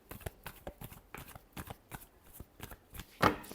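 Tarot cards being shuffled by hand in a quick run of crisp riffling flicks, close and fairly quiet, ending in a sharper, louder snap.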